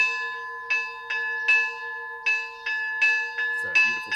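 Monastery church bells ring out in a series of clear metallic strikes, roughly two per second, each with a sustained ringing tone that lingers between hits.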